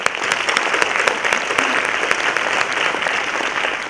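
An audience gives a large round of applause after a talk on leadership for inclusive environments, a dense, steady wash of many hands clapping throughout, loud and without talk.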